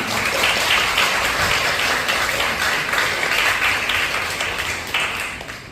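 A room full of attendees at a women leaders' council steering committee meeting claps in a thick, sustained round of applause, loud and continuous, slowly easing off toward the end.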